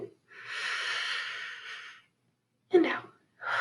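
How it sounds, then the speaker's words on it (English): A long, slow inhalation through the nose, soft and close, drawn during a guided mindful breathing exercise, followed by shorter breath sounds and a brief voice. "breathe in through your nose and out through your mouth"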